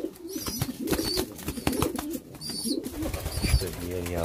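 White tumbler pigeons in a coop coo in soft, repeated low calls, with a few brighter chirps and rustling close by; a tonal buzz enters near the end.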